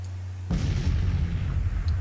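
Artillery fire in the Civil War strategy game Grand Tactician: a single loud booming cannon blast that hits suddenly after a low hum and rolls on into a long rumbling decay.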